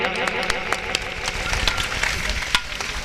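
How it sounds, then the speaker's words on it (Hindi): A crowd at a village religious storytelling gathering in Nagla Bel breaks into applause. Dense clapping with sharp individual claps stands out over a busy, noisy background. "एक बार सभी लोग तालियां बजा देंगे"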